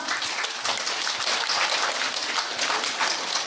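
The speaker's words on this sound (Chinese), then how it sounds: "没有唱已经拍手了。" Audience of disciples gathered with their master clapping together, a dense, even patter of applause sustained loudly from start to finish with no talk.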